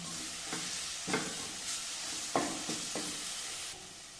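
A spoon scrapes and stirs spices and pepper through a sizzling pan of fish curry in several distinct strokes, over a constant soft frying hiss, close by.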